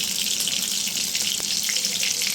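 Salted potato bhaji fries in a pan with a continuous, bright sizzle and crackle throughout, close and moderately loud with no talking.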